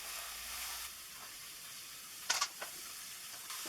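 Onions hitting a hot spiced pan for caramelised onion chutney, a soft, steady sizzle and hiss with a couple of brief clattering bumps partway through, fairly quiet and close.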